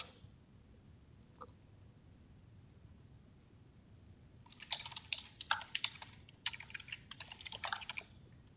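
Someone types a password on a computer keyboard in quick bursts of soft, close clicking keystrokes after a quiet stretch, with no talk.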